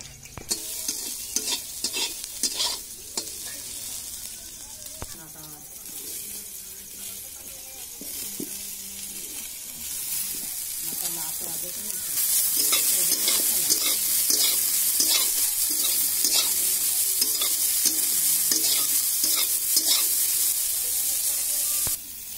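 Cumin seeds fry in a pan on a stove, crackling and hissing with repeated scraping stir strokes, the sizzle growing louder and brighter in the second half, close up with a voice briefly at the start.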